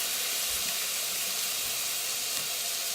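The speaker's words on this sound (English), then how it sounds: "So we're going to sear this the roast" A pot roast sears in hot garlic-infused canola oil, giving a steady, loud broadband hiss with faint low bumps, continuous for the whole span with no voices.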